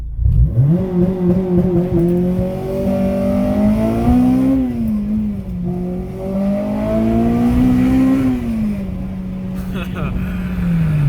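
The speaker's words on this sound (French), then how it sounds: "gardes ton pied sur l'embrayage, t'accélères à fond." A Honda Civic Type R EP3 on launch control with the clutch held: the engine revs hard and holds high, dips, then climbs again under full throttle, loud and close, with voices over it.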